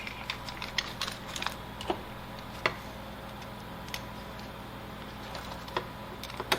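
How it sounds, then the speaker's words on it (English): Screws are driven into a GDEMU SD extender bracket. A series of small, sharp ticks and clicks at irregular intervals sits close over a quiet background hum, with no talking. "And then you can put a couple screws in there."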